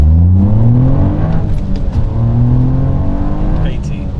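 A Toyota GR Yaris engine and exhaust pull hard under acceleration, the loud clean tone climbing in pitch through the gears with short breaks at each shift, close and dominant.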